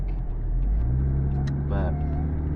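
A Toyota MR2 with its engine mounted rear-mid is being driven, its engine a steady low drone that continues under a voice talking in the cabin.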